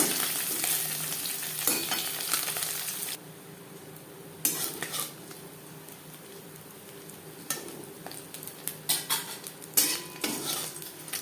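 Small puti fish fry in a pan with a bright sizzle that drops sharply partway through, then returns in bursts alongside clinks and scrapes of a utensil against the pan, close up and without speech.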